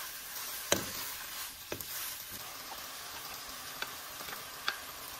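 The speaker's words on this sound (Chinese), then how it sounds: "放入豆泡和豆芽， 放入少许生抽、蚝油，翻炒均匀，放入牛肉，" Beef stir-fried in a wok with tofu puffs, bean sprouts, soy sauce and oyster sauce gives a quiet, steady sizzle, with a few sharp clicks and taps of a spatula scraping and tossing the ingredients.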